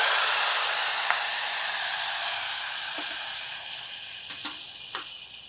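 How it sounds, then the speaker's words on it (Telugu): Hot tempering with curry leaves sizzles steadily as it goes into an Andhra-style raw banana and chana dal curry, a continuous fry hiss slowly fading, broken by a few small pops and crackles. "పోపు వేగిపోయింది. దీన్ని తీసి కూరలో వేసేద్దాం."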